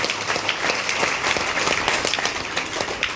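Steady applause from an audience at a Brahma Kumaris dedication ceremony in Jabalpur, dense overlapping claps sustained at even loudness throughout, with no voices over it.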